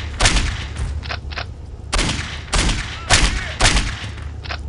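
Several sharp handgun shots in the video game Postal 2 ring out at irregular intervals, loud and close, with some fainter shots between them.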